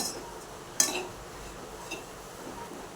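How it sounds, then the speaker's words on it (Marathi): A spoon stirs grated fresh coconut and jaggery in a pan, making a soft scraping bed of sound broken by one sharp metallic clink and a fainter knock later. The sound is close and quiet. "गोल टाकून असं हलवून घ्यायचं गुळ वितेपर्यंत म्हणजे खोबरं आणि गुळ एकत्र मिक्स झालं पाहिजे"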